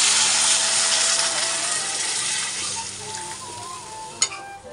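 Water poured onto fried spices in a hot pan sets off a loud, close hissing sizzle that slowly fades, with a sharp clink near the end.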